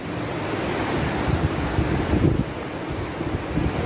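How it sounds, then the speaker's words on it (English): A swollen, full river rushes steadily nearby, a broad continuous wash of water noise with some wind buffeting the microphone, no voices. "So I'm just down by the river and wow, she's full"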